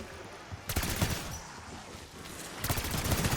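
Bursts of rapid gunfire from Call of Duty Zombies, a fast automatic volley, then a brief lull, then another loud burst of shots.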